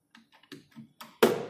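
Keys tapped on a computer keyboard, including the Escape key: several light, close clicks in an uneven sequence ending in one sharper, louder press.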